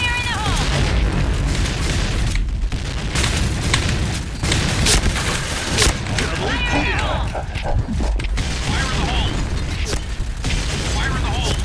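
Gunfire in the Point Blank shooting video game, with repeated sharp booms and bursts over a dense clatter of game effects. A person talks throughout.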